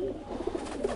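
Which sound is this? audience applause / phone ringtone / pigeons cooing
pigeons cooing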